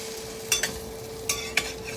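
French toast turned in a hot pan with brown butter: a few crisp scrape-and-flip clicks over a low steady sizzle, with no talking.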